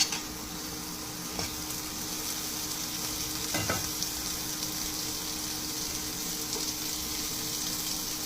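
A steady, close sizzle of bacon frying in oil for pansit, with a couple of faint clinks partway through and no voices.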